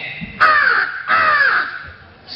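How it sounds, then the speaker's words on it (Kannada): A crow caws twice, loud and nearby, each call a harsh, drawn-out rasp, with quiet outdoor background between them. "ಕಕ್ಕೆ"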